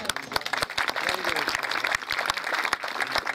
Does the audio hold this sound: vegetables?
no